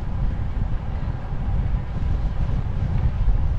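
Wind rushes over the microphone during a road bike ride near Sarasota, a steady, loud, low buffeting rumble with no talking.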